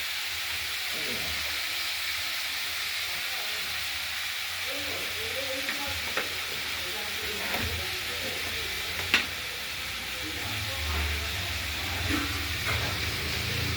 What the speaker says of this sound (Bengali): তো ভাজা ভাজা করে নিই